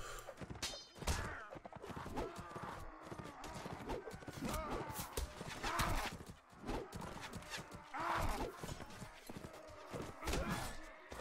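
Horse hooves clip-clop steadily with occasional neighs and thuds in a battle in the video game Mount & Blade: Warband, with a busy, continuous mix of impacts throughout.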